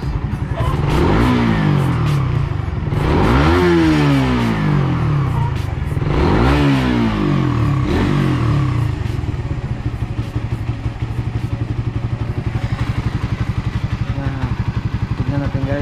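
A Rusi Raider FI150 motorcycle fitted with an iridium spark plug and plug coil revs hard close by, three rising-and-falling throttle blips over its rapid idle, then settles back to a steady putter.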